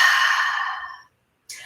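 A single long, breathy exhale during vinyasa yoga, close and fairly loud, fading over about a second into silence before a short breath sound starts again.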